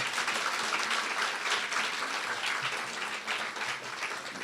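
Conference audience at York College applauds in a full, continuous wash of clapping from many people, moderately loud and steady.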